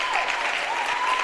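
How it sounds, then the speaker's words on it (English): A crowd at a varsity high school wrestling match between Charlotte Latin and Providence Day claps steadily, the applause dense and continuous, filling the gym without voices rising above it. "Everyone's clapping."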